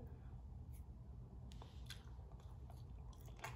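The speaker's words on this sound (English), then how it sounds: "I'm gonna go and eat this one little drumstick" Someone bites into and chews an air-fried jerk Cornish hen drumstick, faint close crunches and wet chewing over a low background hum, with no talk.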